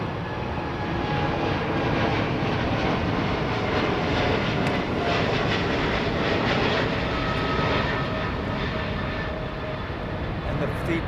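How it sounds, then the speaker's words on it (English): Japan Airlines Boeing 777-300 jet engines at Heathrow, a continuous loud broadband roar that holds steady throughout, heard from the ground with some faint background voices. "The Japan Airlines 777 that's flying out of Heathrow tonight"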